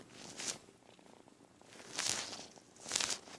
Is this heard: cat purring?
yes